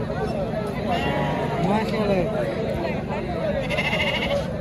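Sheep bleat amid the steady crowd noise of a busy livestock market, with several calls rising close by over continuous background chatter and bustle.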